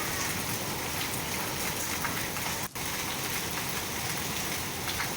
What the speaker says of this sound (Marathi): अहिल्यानगरमध्ये मुसळधार असा पाऊस झालेला आहे।